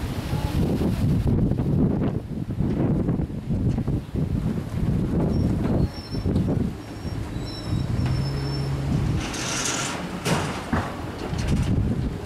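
Strong wind roaring around a swaying roofer's crane on a rooftop, a constant loud buffeting gust noise with rattling gusts and faint metallic creaks throughout; no talk.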